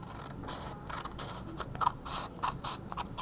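Scissors cut paper along a line for a calendar craft, making a run of quiet, evenly spaced snips and crisp slicing strokes, close and soft with no talking.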